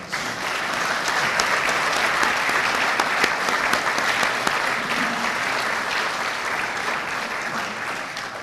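Sustained applause from an audience at a fire department awards ceremony fills the room, a dense, steady wash of clapping that carries evenly without pause and no voices above it.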